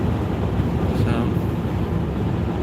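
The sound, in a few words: car ("the Vic") driving on the road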